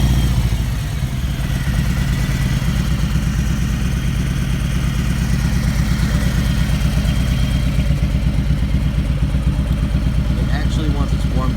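A 2017 Harley-Davidson Road King Special with upgrades rumbles steadily and loudly at close range, its low, lumpy idle throbbing without pause throughout.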